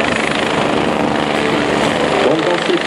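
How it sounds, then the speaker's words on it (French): A rescue helicopter at an air show flies nearby, its rotor and engine making a loud steady thrumming roar throughout, with someone talking over it. "l'hélicoptère fait d'abord une reconnaissance pour apprécier l'aérologie, pour apprécier les obstacles éventuels"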